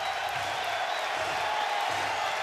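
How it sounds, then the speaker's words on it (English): Baseball crowd at an NCAA game between Texas and Oregon cheering and applauding after a walk, a distant wash of clapping and voices held steady. "That gets this crowd to its feet."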